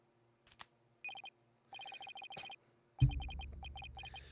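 A phone in the video game Apollo Justice: Ace Attorney rings in short repeated electronic trilling bursts, clear and isolated, with a deeper thump near the end.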